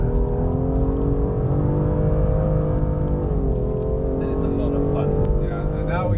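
A 2016 BMW M2 engine drones loud and steady on a hot lap at Laguna Seca climbing toward the corkscrew, the pitch shifting with throttle and gears over the full clip while someone talks over it.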